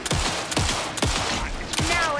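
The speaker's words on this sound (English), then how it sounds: "Anderson, pin him down with gunfire for me to get the light on him." Video game gunfire in Alan Wake 2: a rapid volley of loud, close shots in rhythmic bursts roughly every half second, with faint voices in the mix.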